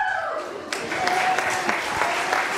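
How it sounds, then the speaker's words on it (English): Audience applause for the winner of a game show skit at a church event, a burst of clapping that swells in after a short lead-in and carries on steadily over a background voice. "Big round of applause for our big winner."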